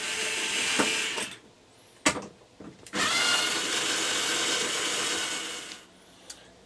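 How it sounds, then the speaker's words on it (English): Small stainless steel screws backed out of RV shower faucet knobs with a power driver, sustained whirring bursts with brief pauses and a sharp click between runs, close up. "And you see there's little stainless steel screws in there. We're going to take those out."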